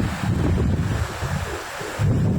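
Ocean surf washing in a broad continuous roar with wind buffeting the microphone, loud and close along a beach, swelling and easing slightly without any voices.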